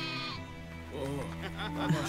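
A sheep bleats in a cartoon retelling of the lost-sheep parable, a wavering, quavering cry that rises over about two seconds with music playing beneath it.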